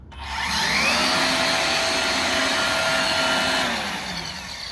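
Ryobi leaf blower powering up and running, a steady loud airy roar with a high whine that swells quickly, holds evenly and eases slightly near the end.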